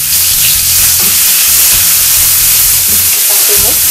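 Garlic, candlenut and a little pepper sautéing in a hot pan, a steady loud sizzle and crackle throughout with faint stirring scrapes, no talking.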